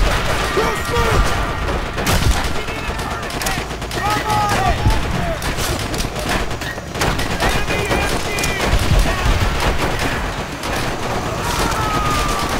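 Japanese machine gun fire in the video game Call of Duty: World at War rattles in sustained bursts amid crashes, explosions and battlefield noise, with shouted soldier voices mixed in throughout.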